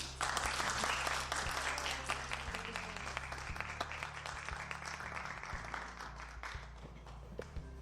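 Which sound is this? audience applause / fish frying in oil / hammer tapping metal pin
audience applause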